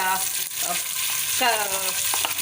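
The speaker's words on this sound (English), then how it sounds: "Now you have to fry the onion till brown." Onion frying in a pan for tomato pulao, a steady sizzle with stirring scrapes under a voice with rising tonal inflections, close and moderately loud throughout.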